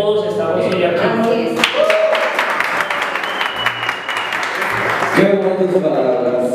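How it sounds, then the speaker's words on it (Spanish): A party crowd claps for the speaker's mother at a birthday celebration with a youth mariachi band, steady enthusiastic applause under and between spoken words, swelling in the middle. "yo quiero decir que le agradezco a todos un aplauso a mi mamá"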